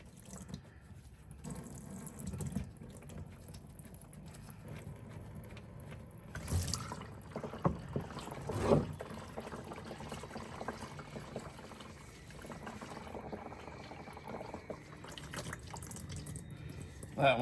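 Oil draining and dripping from a Can-Am Maverick R engine during an oil change, a steady faint trickle with scattered drips and a couple of louder clunks, nearby and fairly quiet.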